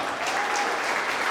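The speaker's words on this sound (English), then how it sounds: "please give them a round of applause" An audience at a high school football Hall of Fame ceremony gives a brief, even burst of steady applause alone, with no talk over it.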